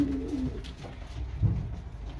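Racing pigeons coo in a breeding loft, with a low, soft, throaty coo rising briefly in the middle against a steady murmur of the loft, close by and with no talking.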